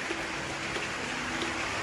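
Steady rain hisses down outdoors over covered guppy tanks, a dense continuous wash of patter with no voices.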